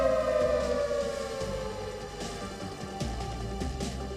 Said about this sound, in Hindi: सायरन्स की आवाजें लगातार सुनी जा रही हैं।